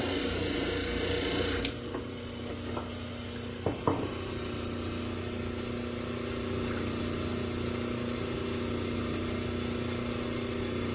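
A model trimmer grinds a dental study model, a loud hissing grind that drops into a steady motor hum. A few brief knocks follow as the stone cast is pressed against the wheel.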